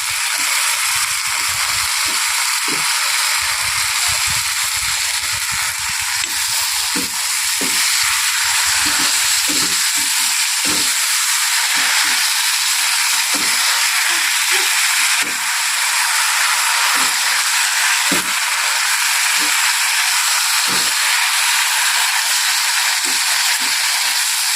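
Raw potatoes go into a hot pan and sizzle loudly and continuously, a dense frying hiss punctuated by scattered pops and stirring clicks throughout.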